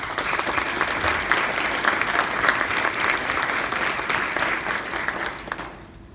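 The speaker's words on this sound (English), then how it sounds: "please join me in recognizing our leader with a round of applause" A large crowd at a graduation ceremony applauds steadily with dense, sustained clapping that fades out toward the end.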